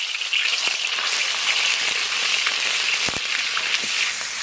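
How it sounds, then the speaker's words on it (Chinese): Minced meat stir-frying in a little oil left in a wok after potatoes were fried, a steady close sizzle with crackling and a few sharp scrapes of the spatula. "锅里留点油，先炒肉末"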